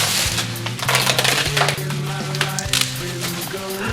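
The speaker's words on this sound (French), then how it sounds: "Première chose, déballer les paquets." Packages holding new flat window panes for a VW Combi rear window being unpacked: steady crinkling and rustling of wrapping with scattered crackles and light knocks, close and fairly loud, no speech.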